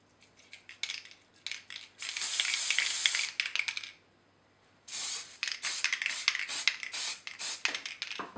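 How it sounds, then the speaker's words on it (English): A Humbrol enamel matte varnish aerosol can sprays in two long hissing bursts, with shorter spurts and a few light clicks before and between them, close by. "Humbrol enamel matte varnish with an aerosol spray"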